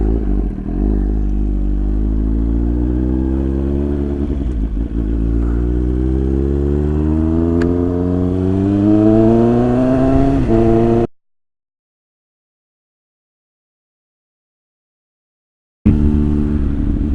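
A motorcycle engine revs steadily and climbs in pitch as the bike accelerates under way, loud and close, then drops to complete silence for several seconds before the engine sound resumes.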